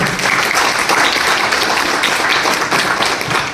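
Loud, dense audience applause from a crowd at a training meeting, continuous steady clapping throughout with no pauses.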